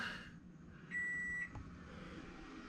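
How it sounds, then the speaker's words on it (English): A GoPower IC2000 inverter gives a single short electronic beep when switched on by its button. The tone is clear but quiet against a faint room hush. "I hit this button here for the inverter."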